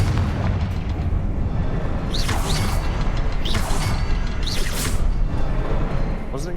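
Confringo fire spell blasts in Hogwarts Legacy, a few bright whooshing bursts with booming impacts over a constant rumbling game backdrop, with some speech around them.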